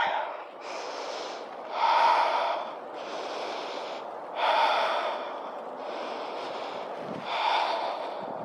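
Deep, audible breaths during a yoga trapeze workout, slow rhythmic inhales and exhales through the nose and mouth, close and steady, rising in a stronger push roughly every two and a half seconds.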